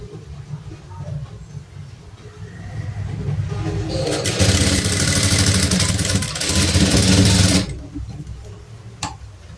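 Sewing machine stitching a blouse, its fast whirring run building from a soft start into a loud steady burst for several seconds before stopping, with a voice talking faintly around it.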